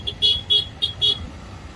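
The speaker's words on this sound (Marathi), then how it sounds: "किती वेळ झाला मी ट्रॅफिक मध्ये अडकले" Car horns in a road traffic jam, four short high honks in quick succession over a low rumble of idling vehicles.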